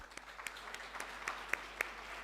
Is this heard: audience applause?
yes